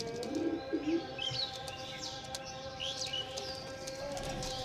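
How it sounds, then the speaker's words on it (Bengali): Large breeder pigeons coo in a loft, soft throaty calls repeating close by, mixed with scattered chirps and light shuffling. No voices are present. "বড় বড় ব্রিডার পায়রা"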